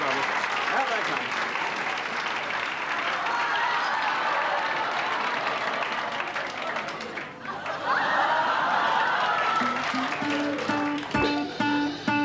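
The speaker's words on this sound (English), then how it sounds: "let's give them a warm and generous round of applause" Audience applause at a talent-show taping, welcoming a young act called the Crows Brothers, clapping loudly at first and then fading into chatter, chuckles and stage sounds near the end.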